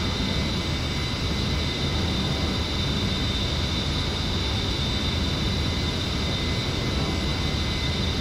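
A fixed-wing aircraft in the DCS flight game comes in to land, its engine a steady, loud, unbroken broadband roar holding level throughout with no voices.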